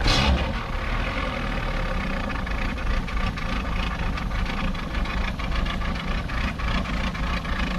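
A Mercury 60 EFI outboard motor, manually started, running steadily at idle, a loud continuous rumbling chug that starts abruptly and holds an even pace throughout.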